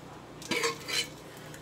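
A home pressure cooker is opened after its whistle has died down, with a couple of soft metallic scrapes and rattles of the lid and pot, ending in a sharp clank close by.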